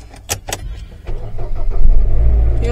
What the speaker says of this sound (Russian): Сейчас заведем машинку.